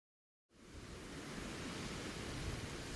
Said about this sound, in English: Oh, the sound of water. We must be already on the ocean.